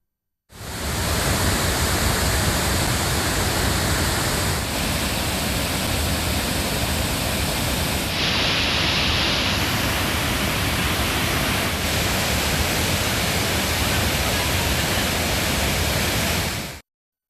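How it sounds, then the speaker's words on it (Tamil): Manimuthar waterfall in the Western Ghats near Ambasamudram, in flood after heavy rain, roars as a loud, steady rush of falling water that stays unbroken throughout. "நெல்லை மாவட்டம் அம்பாசமுத்திரம் மேற்கு தொடர்ச்சி மலைப்பகுதிகளில் பெய்த கனமழையால் மணிமுத்தாறு அருவியில் வெள்ளப்பெருக்கு ஏற்பட்டுள்ளது"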